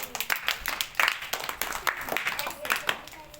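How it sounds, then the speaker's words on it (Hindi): A small group of tuition-class students claps for a classmate, giving a short burst of uneven, fairly quiet hand claps that lasts a few seconds. "इसके लिए तालियां बजाओ"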